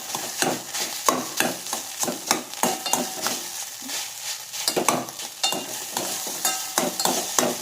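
Cooked rice is stirred into egg in a pan for a baby's egg rice, a spoon scraping and tapping in quick rhythmic strokes over a light sizzle, close and without talk.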